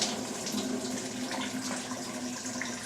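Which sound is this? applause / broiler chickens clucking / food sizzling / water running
water running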